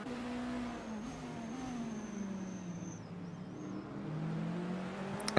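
Race cars at the 24 Hours of Daytona pass a GT3 Mercedes, with a steady engine drone and shifting pitch heard from a distance, moderately loud and without talk.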